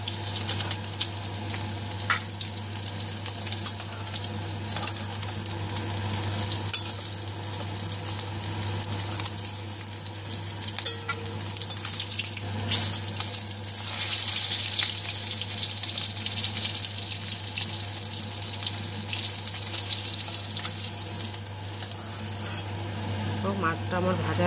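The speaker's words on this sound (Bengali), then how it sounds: "মাছের পিসটা কিন্তু একটু মোটা বেশি, তাই এটাকে একটু ভালো করে ভাজতে হবে" Thick pieces of fish fry in oil in a wok, giving a steady, dense sizzle and crackle that runs the whole time at an even level with only small swells, close by and with no talking.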